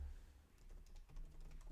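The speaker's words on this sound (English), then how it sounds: "I'm typing it." Quiet typing on a computer keyboard, a short run of soft, irregular key clicks close by, with no talking.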